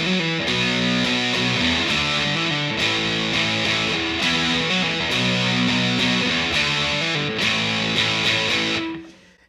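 Distorted electric guitar slowly strums the chord changes of a song's intro, ringing steadily for about nine seconds before the final chord cuts off and fades.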